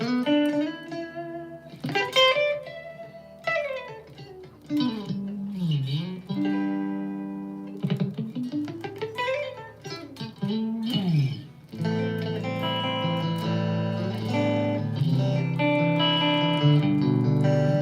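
Clean electric guitar played through a Blackstar HT-5RH Studio valve amp head, sounding as melodic single notes, slides and bends, then sustained ringing chords with reverb. It plays alone and fairly loud, with no talking.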